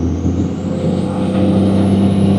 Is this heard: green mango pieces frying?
no